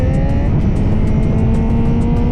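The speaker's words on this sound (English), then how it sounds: "I packed the bike, start the engine," A motorcycle engine loaded for a camping trip to Croatia runs loud and close, a constant throaty drone with a steady pulsing rhythm and no pauses.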